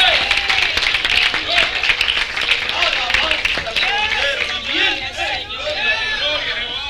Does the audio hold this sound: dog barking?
no